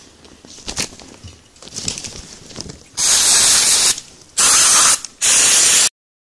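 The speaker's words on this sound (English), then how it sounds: "I'm going to spray them with some degreaser" After some scraping and clicking, three loud hissing aerosol bursts of degreaser are sprayed close up onto Suzuki GSX-R 400 motorcycle rear suspension parts, each lasting about a second with short gaps between.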